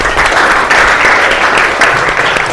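A classroom of students applauding together after a group discussion, a close, loud, uneven patter of clapping that swells and holds for a couple of seconds.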